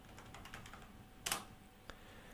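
Soft, quiet keystrokes on a computer keyboard tap out an irregular string of clicks, with one sharper, louder key press in the middle.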